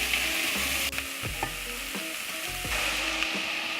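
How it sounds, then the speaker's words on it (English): Onions sautéing in olive oil for a gluten-free marinara, a steady close sizzle with repeated scraping strokes and low rhythmic tones, no talking. "We're gonna saute the onions until they're slightly translucent"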